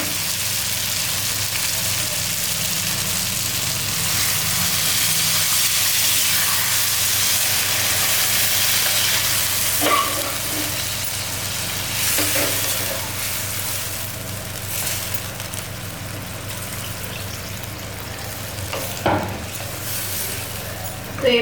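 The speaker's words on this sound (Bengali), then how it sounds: "তো এবার আমি ঝোল দিয়ে দেবো।" Broth poured into a sizzling pan of soft-cooked cauliflower curry for a rohu fish jhol, giving a steady loud frying hiss with bubbling and a few sharper spatters and clinks toward the end, with no talking.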